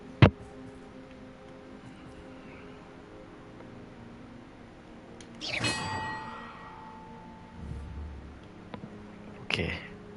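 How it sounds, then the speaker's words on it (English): Bells in the video game Hogwarts Legacy: a sharp metallic clang at the start, then two more ringing bell strikes with lingering tones a few seconds apart, amid quiet game ambience and faint mechanical ticking. "Perhaps the map contains clues about the order I'm supposed to ring the bells in."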